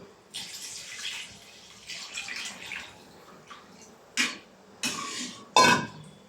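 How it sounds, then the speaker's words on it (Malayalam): Tamarind water is poured into a tomato-based chicken curry in a pot, several splashy pouring bursts of liquid with short pauses between them, the last pours shorter and sharper, close by with no talking. "നമുക്കിനി ബാക്കി പുളിവെള്ളം കൂടെ ഒഴിച്ചു കൊടുക്കാം."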